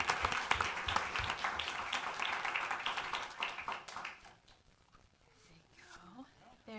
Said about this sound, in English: we'll clap as she comes forward as well